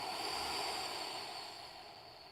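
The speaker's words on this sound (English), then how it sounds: "taking 3 deep conscious breaths all together, breathing fully in" A slow, deep exhale during a guided meditation breathing exercise, a soft airy breath close to the microphone that gradually fades.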